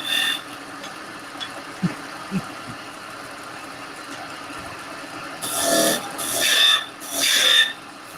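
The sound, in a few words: woodturning tool cutting wood on a lathe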